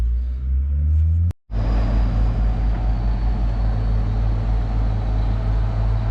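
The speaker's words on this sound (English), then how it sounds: "we're gonna lift the front with the 2 skid loaders" Two skid loaders and a telehandler lifting a heavy concrete bin pad, engines droning in a steady loud low rumble close by, with a brief cutout near the start and no talk.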